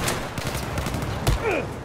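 Gunfire crackles in Battlefield 4 on Xbox One, a few close, sharp shots with one heavier report near the middle, over a busy battlefield bed.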